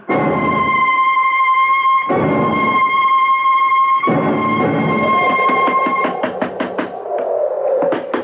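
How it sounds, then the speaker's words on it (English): Knocking on a door in a radio drama, several bursts of heavy thuds separated by pauses, loud and close, with a tone ringing behind and a rapid run of knocks near the end. "Keep on knocking"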